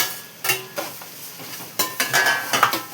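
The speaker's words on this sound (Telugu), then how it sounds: "ఇదిగో అల్లం వెల్లిపాయ వేసానా, టమాటా వేసేసుకుందాం." Tomatoes fry with ginger garlic paste in a pan while a spoon stirs and scrapes. Soft sizzling sits under several clattering stirs and scrapes against the pan, close up, with no talk.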